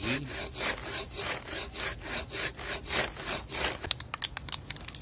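A hand saw cuts through the lower part of a mango tree branch in even back-and-forth strokes, close and rasping, quickening into short choppy strokes near the end.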